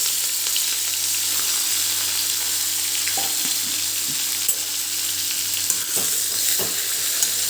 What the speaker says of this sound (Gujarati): હવે જીરું આપણું શેકાઈ ગયું છે તો એની અંદર આ ભરેલા બટાકા એડ કરી દઈશું